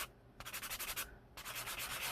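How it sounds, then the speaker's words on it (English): Wet sanding a polymer clay bead with a damp sanding sponge, heard as close, rhythmic rasping strokes in two bursts of quick back-and-forth rubbing with a short pause between them. "it's quite easy to sand polymer clay."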